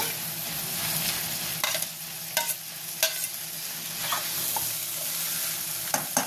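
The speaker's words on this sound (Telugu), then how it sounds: "ఇదిగో ములక్కాయ ముక్కలు వేసేసుకుందామండి ముందు" Drumstick pieces go into a pan of fried onions for a tamarind curry with eggs, producing a continuous sizzle broken by several sharp clinks and scrapes of stirring spread through the clip.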